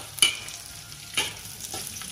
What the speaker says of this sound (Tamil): நல்லா பொரிஞ்சிருச்சு நெத்திலி